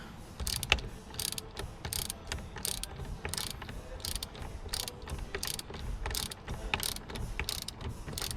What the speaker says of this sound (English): so tighten the bolt in